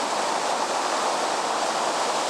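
A waterfall in the Yorkshire Dales pours in a steady, dense broadband rush, loud and unbroken throughout, with no voices over it.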